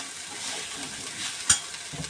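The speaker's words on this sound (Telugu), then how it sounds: "ఈ తాలింపు మొత్తం బాగా ఫ్రై అయిపోయింది కాబట్టి ఇప్పుడు ఇంకా శనగలు ఇందులో వేసేసి" Chickpeas are added to a hot oil and spice tempering and stirred, giving a soft, steady sizzle with a single sharp scrape of the utensil near the end.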